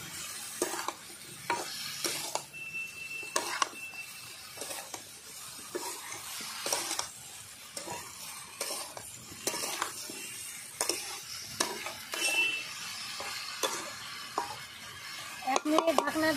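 Vegetables being stirred and mixed with dried fish in a pan: steady scraping and clinking of a utensil against the pan over a soft sizzle, continuing throughout at moderate, close volume with no talk.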